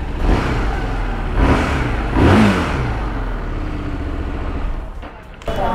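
A Harley-Davidson Street Rod 750 motorcycle engine revs up in a few surges over a steady idle, loud and close, with the throttle blipped and then eased back.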